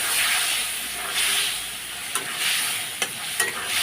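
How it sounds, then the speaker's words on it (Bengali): Fish curry with spices and a little water sautéing and being stirred in a pan, a steady close sizzle and hiss with a few scraping stirs breaking through. "এবার কষাবো,"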